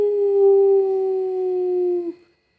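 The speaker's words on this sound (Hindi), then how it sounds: "इस वक्त भेड़िए की तरह कौन गुर्रा रहा है।" A single loud, close wolf-like howling growl holds one steady, drawn-out tone for about two seconds, then drops off abruptly into silence.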